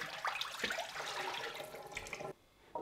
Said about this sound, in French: il suffit de rincer ça. De rincer le réservoir.